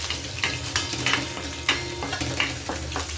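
Green chilies and garlic frying in oil for a dry vegetable dish, a constant close sizzle with several sharp spatula scrapes and taps against the pan at irregular intervals.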